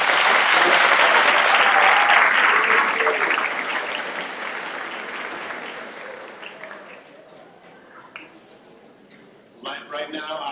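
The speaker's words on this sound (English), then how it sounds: "Nice round of applause for our" Audience applause at a high school awards ceremony for grades 9 to 11, loud and dense at first, then thinning and fading to scattered claps, with a voice beginning to speak near the end.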